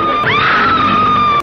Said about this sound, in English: all she does around Kong is scream